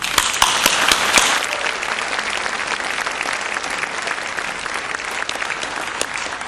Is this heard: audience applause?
yes